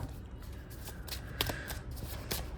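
A deck of cards is shuffled by hand during a card reading, giving soft riffling and flicking bursts, quiet and close with no voices.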